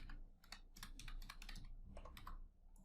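Quick bursts of key clicks on a computer keyboard while entering text in AutoCAD, close and quiet, irregular taps in short runs with a brief pause near the end.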